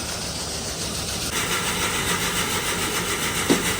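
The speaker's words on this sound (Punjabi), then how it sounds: "ਵੇਖੋ ਛਨਾਈ ਵਾਲੀ ਮਸ਼ੀਨ ਚੱਲਣ ਦੀ ਆ" A maize cleaning and sieving machine runs steadily nearby, a continuous mechanical drone with rattling texture, growing slightly louder partway through, with a brief knock near the end.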